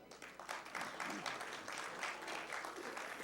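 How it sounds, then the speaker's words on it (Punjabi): Hall applause for Sandhu sahib at an award ceremony during an international Punjabi literary conference in Lahore, a steady crowd clapping that sounds faint and distant and goes on throughout. "ਸੰਧੂ ਸਾਹਿਬ ਵਾਸਤੇ ਤਾੜੀਆਂ"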